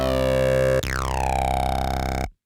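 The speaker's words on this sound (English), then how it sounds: "I sampled some Acid 303 style hits from my Virus Darkstar." Acid 303-style synth hits sampled from a Virus Darkstar: a buzzy sustained tone that cuts to a second resonant hit with a sweeping filter, then stops sharply.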